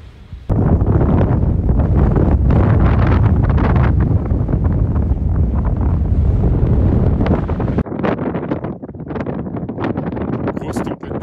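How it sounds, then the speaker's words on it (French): Loud, gusting wind from a desert sandstorm roars and buffets against the microphone throughout, rising and falling in strength. "Grosse tempête de sable."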